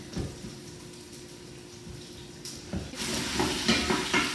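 Cooked butternut squash cubes are tossed into a hot pot, and a soft stirring clatter gives way to a louder burst of sizzling and frying.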